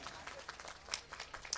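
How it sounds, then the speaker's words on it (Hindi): Applause from a crowd at a Hindu temple festival, a sparse, faint patter of hand claps with uneven rhythm, brief and somewhat distant. "जोरदार ताली।"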